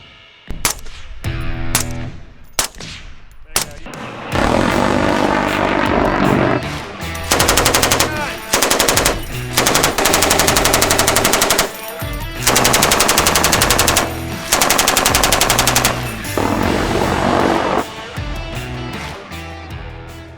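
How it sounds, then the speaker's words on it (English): Sustained machine gun fire during live-fire military training with real ammunition: a few separate sharp shots, then long, loud, rapid staccato bursts broken by short pauses, close and unbroken by any voices. "The staccato crack of machine gun fire,"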